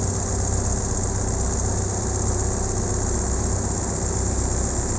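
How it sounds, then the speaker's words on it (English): A skid loader's engine drones steadily during backfilling work at a water treatment plant site, a constant low hum with a faint tonal whine and no talking. "So, pangalawang skid loader"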